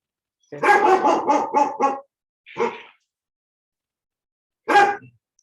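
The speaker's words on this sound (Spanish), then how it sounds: "este perro me va a sacar canas verdes" A dog barks close and loud, first in a rapid run of about six barks, then a single bark after a pause and another a couple of seconds later, with silence between.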